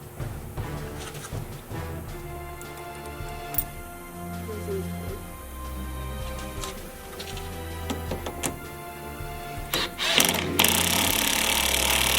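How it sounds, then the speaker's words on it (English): A power drill whines and grinds in uneven bursts close up, drilling out a car's gas cap lock, with clicks and knocks of metal between pulses, ending in a louder rising buzz. "Since our ignition key doesn't fit our gas cap, I'm drilling it out"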